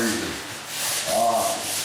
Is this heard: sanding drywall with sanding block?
yes